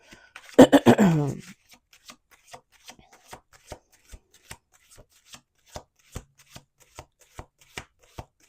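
A brisk riffle of tarot cards at the start, followed by a long run of evenly spaced soft taps as cards are laid or squared, one after another.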